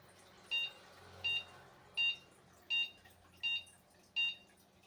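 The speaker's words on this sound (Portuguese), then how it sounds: "esses 6 bips curtos estão me informando que esse computador está sem dispositivo de vídeo." Six short, evenly spaced electronic beeps from a Dell Inspiron 580 mini tower computer failing its startup self-test with no video device, sounding clearly over a low steady hum.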